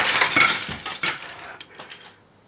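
Glass shattering with a burst of bright crashing fragments, followed by scattered tinkling pieces settling and a few sharp clinks fading out, close and fairly loud.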